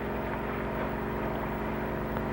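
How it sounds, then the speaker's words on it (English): A motorboat engine drones steadily at moderate distance, a continuous low throbbing hum without voices. "Sounds like a motorboat."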